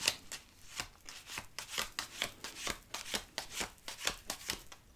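Tarot cards shuffled by hand during a breakfast reading, a quick run of crisp papery riffles and slaps repeating steadily for several seconds, close and clear with no talk over it.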